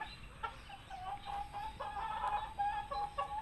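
Six-month-old chickens cluck and murmur nearby in a steady, overlapping chorus, with short sharper calls breaking through now and then.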